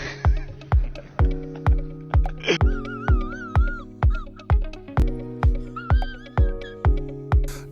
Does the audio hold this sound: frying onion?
no